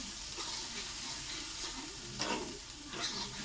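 Pointed gourd sautés in oil in a pan, a soft continuous sizzle punctuated by a few stirring scrapes, quiet and close.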